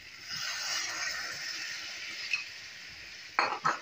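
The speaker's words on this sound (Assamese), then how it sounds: "মই ইয়াত প্ৰায় এবাটি পানী দিছোঁ" Mutton curry fries in a pan with a soft, steady sizzle and faint stirring, then water poured in near the end sets off a few short, splashy hissing bursts, close and quiet.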